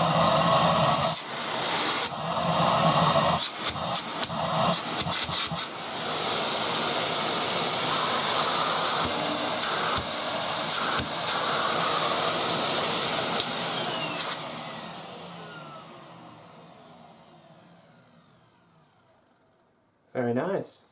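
A Numatic Henry Compact HVR160 vacuum cleaner runs with a curved wand fitted, giving a loud, steady whooshing roar with a few short bumps early on. It then winds down, fading gradually into near silence, before a brief final burst.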